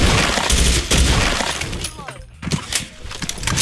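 FAMAS Black rifle firing in the video game Special Force 2: rapid close bursts of gunfire crackling over a busy game mix, with a brief lull before more shots, while someone talks throughout.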